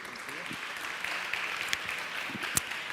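An audience at a climate change summit applauds a speaker's entrance, a steady, moderately faint wash of clapping with a few sharper individual claps.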